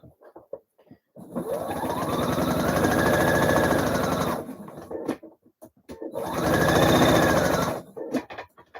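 Sewing machine stitching a narrow hem on an Anastasia blouse: two sustained bursts of rapid, even mechanical whirring, the first about three seconds long, separated by a pause with light handling clicks, close and fairly loud.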